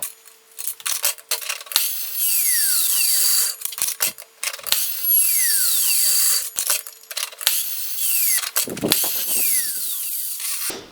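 A power tool whines as it cuts leftover aluminium checker plate into small corner pieces for a welding cart. Several loud cutting passes alternate with short pauses, and a clatter comes near the end.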